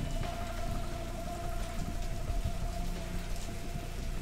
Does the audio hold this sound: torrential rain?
yes